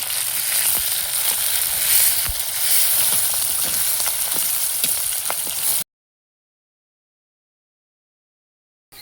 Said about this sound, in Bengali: মাথা দিয়ে ভাজতে ভাজতে ভেঙে দিও